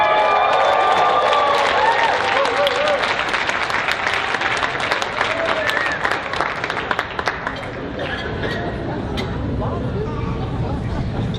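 An audience at a school success event cheers and applauds loudly. The dense clapping and shouting start at full strength and then slowly thin out and fade over several seconds.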